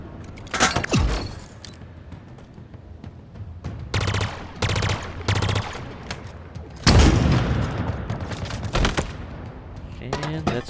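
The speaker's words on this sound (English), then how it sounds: "I'll use the pulse carbine to take out the shield on the shade turret, and then I'll finish it off with a rocket." In the Halo Infinite video game, a pulse carbine fires rapid energy bursts at a shielded Shade turret, followed by a rocket launcher blast, giving loud, clustered volleys of shots with brief pauses between them.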